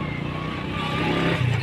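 Motorcycle riding along a road, its engine giving a steady low rumble with slight rising revs, heard close amid wind and road noise.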